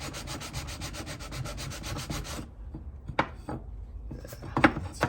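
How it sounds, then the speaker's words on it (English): Flat sanding block rubbed over a Harley Street Glide cylinder head part, a steady scraping rasp for about two seconds, then a pause and a few short, sharper strokes and knocks close by. "I have this flat little sanding block"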